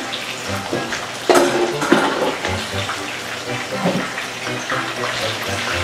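Water poured into a pan during home fried chicken cooking, a continuous splashing run with brief louder gushes, close up and mixed with faint sizzling and people talking.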